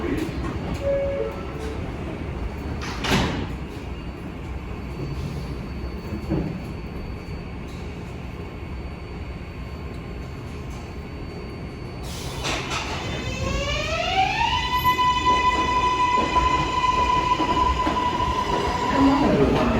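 An R188 7 local subway train at 33rd Street–Rawson Street pulls away from the station, its motors whining up in rising tones over rumbling wheels and a sharp burst of noise, heard up close.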